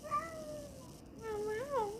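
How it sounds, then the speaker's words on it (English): A cat lets out a couple of drawn-out, wavering meows, faint and close, with a rising and falling pitch and a short gap between them. "Can you say meow meow?"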